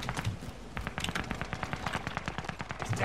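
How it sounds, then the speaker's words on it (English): Rapid gunfire in a shooter video game, a dense run of sharp shots at a moderate level with no speech over it. "Oh, I'm being sniped."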